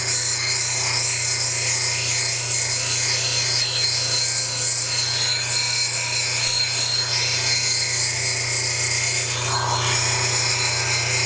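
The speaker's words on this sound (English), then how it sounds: "Now I'm going to go around the stone and I'm going to round it on down to 1/16 of an" Turquoise stone being ground and rounded into a cabochon on a lapidary wheel, a continuous close abrasive rasping over a steady motor hum, unbroken and fairly loud with no speech.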